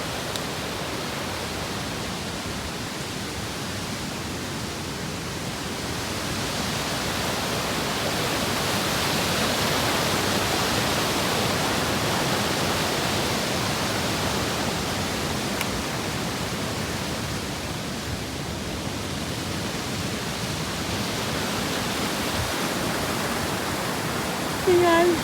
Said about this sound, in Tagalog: Lakas ang agos, no?